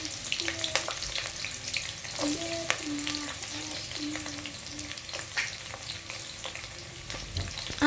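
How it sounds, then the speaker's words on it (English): Onions frying in hot vegetable oil for a vegetable sauce, a dense continuous sizzle with sharp crackles and scraping stirs, some faint tonal scrapes of a utensil in the pan, steady throughout with no talking. "when it's heated up, we're going to go ahead and start adding our onions"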